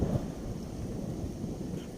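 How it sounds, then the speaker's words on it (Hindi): Thunder rumbles low and steady through a light drizzle in cold January weather, a continuous deep roll with faint rain hiss over roughly two seconds. "गर्जना भी शुरू हो चुकी है"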